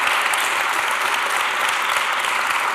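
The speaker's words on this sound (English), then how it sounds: "let's give him a round of applause before I go on" A crowd applauds a guest at a youth debate on European identity, dense continuous clapping held at an even, loud level throughout.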